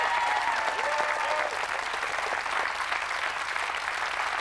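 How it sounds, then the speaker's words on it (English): Sustained studio audience applause on a live TV talk show, dense and steady throughout with a faint murmur of voices beneath. "Give them a nice round of applause, guys."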